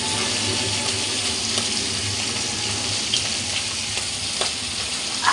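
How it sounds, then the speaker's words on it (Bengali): Puti fish (pool barb) fry in hot oil in a pan, giving a loud, close, continuous sizzle with occasional sharp pops and spatters. "ফুটছে মাছ"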